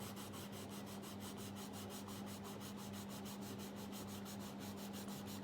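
A blue coloured pencil shades across paper in quick, even back-and-forth strokes, a faint dry rhythmic scratching repeated steadily and heard close and alone.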